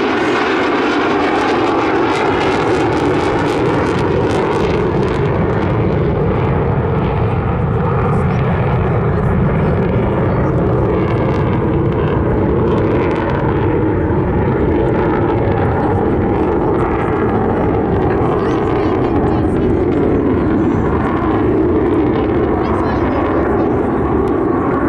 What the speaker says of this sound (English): Very slow pass now, showing the terrific speed range of this aircraft with the undercarriage down in the